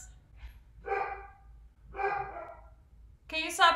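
A dog gives a few separate barks with quiet gaps between them, fairly close, the last one sharper and higher.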